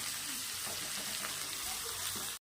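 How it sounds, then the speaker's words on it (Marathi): Ground masala paste fries in a pan with a continuous, even sizzle heard close up and unbroken until it cuts off abruptly. "आता याला थोडं फ्राय करून घ्यायचं"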